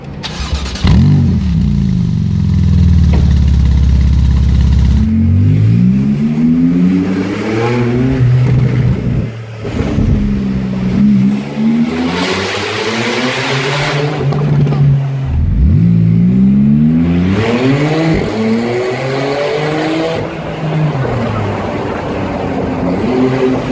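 A 2018 Porsche 911 Turbo S Cabriolet fitted with a Capristo exhaust starts up, then is revved repeatedly, its engine note sweeping up and down in loud, close bursts with afterburn crackles between revs.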